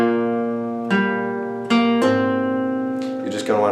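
Solo guitar slowly playing a Hytale riff with hammer-ons, a handful of distinct plucked notes ringing out one after another at an unhurried pace, close and clear with no talking.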